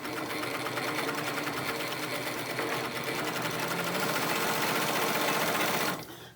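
A Highlead zig zag industrial sewing machine running at speed, a fast, even mechanical rattle of stitching that holds steady for several seconds before stopping abruptly.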